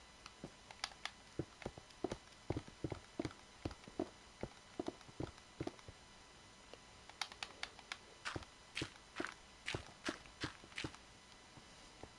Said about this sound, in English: Why do I hear horses?